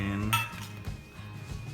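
A utensil stirring tuna salad with mixed vegetables and onions in a bowl, giving a few quiet scraping clinks and knocks against the bowl's side.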